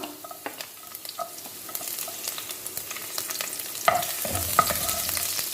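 Oil sizzles and crackles steadily in a pan over medium gas as chopped garlic fries, with occasional sharp pops and a louder hiss as something is stirred in.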